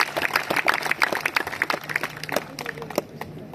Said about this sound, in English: big round of applause for once again India's one and only organization, We Are One